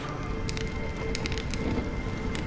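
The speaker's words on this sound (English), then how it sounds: "When will this rain ever stop?" Steady rain in the video game Honkai: Star Rail, pattering on surfaces near stagnant water with crackling drops and a low rumble, continuous and fairly close, with no one speaking.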